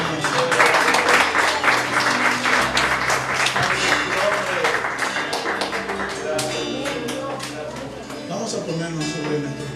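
Congregation clapping for God during a Spanish-language church service, a loud sustained burst of applause with some taps and voices mixed in throughout.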